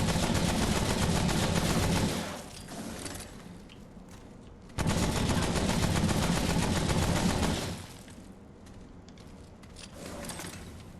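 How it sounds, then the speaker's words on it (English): A machine gun fires in the video game Remnant: From the Ashes, two sustained loud bursts of rapid automatic fire, each lasting a few seconds, separated by a quieter lull of rattling game ambience. "It's a machine gun."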